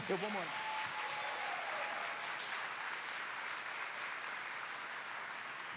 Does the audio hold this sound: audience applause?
yes